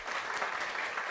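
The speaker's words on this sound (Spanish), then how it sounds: "Un aplauso para el señor." Audience applause for a speaker at an engineering week talk on machine safety, a brief, even patter of many hands at moderate distance, fairly soft.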